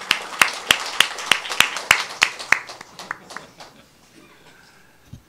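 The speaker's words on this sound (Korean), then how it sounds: "환영의 박수 부탁드립니다" Light applause at a Korean debate forum welcoming a council member to the podium: a few close, evenly spaced claps that thin out and fade within a few seconds, with no talk over them.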